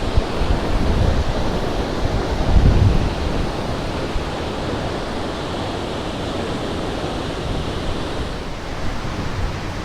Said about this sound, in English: But this is a waterfall, up close and personal